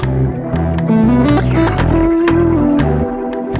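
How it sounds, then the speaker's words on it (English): Electric guitar notes through a BOSS GT-1000 Core reverb effect with a washy tail, each note blooming and lingering into the next, loud and upfront with no voices. "let's stick on a bit of reverb."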